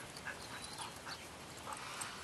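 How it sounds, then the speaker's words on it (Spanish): A female dog whimpers during guard and protection training, faint high whines coming in short repeated bursts over a hissing background. "Qué bonita perra."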